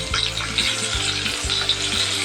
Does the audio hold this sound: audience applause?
no